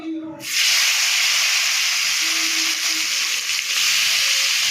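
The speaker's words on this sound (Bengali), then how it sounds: "এই তেলের মধ্যে বেগুনগুলো আমি একটু ভেজে নেবো" Brinjal pieces fry in hot oil, a loud steady sizzle that hisses from the start and holds level throughout, close up, with no talking.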